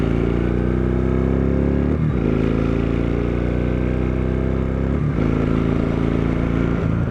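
A Kawasaki Vulcan Vaquero motorcycle rides along with a loud, steady engine drone and wind rush, its pitch climbing through the gears with two brief dips at shifts and no talking.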